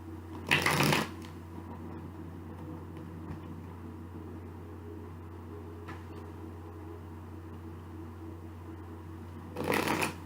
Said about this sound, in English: So as I'm shuffling these cards